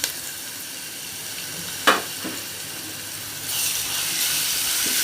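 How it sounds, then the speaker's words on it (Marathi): Garlic ginger paste hitting hot oil, with a steady low sizzle broken by a sharp clack of a utensil, then a louder, brighter frying hiss building toward the end. "आता आपण घालूया त्यामध्ये लसण आल्याची पेस्ट"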